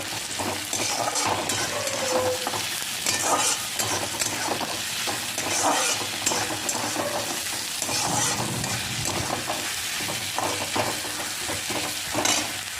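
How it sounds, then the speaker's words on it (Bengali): Ginger garlic paste being stir-fried with onion in a pan for a fish curry, a continuous sizzle broken by frequent scraping strokes of a spatula, nearby and steady. "আদা রসুনটা পেঁয়াজের সঙ্গে এক মিনিট নাড়াচাড়া করে নিতে হবে"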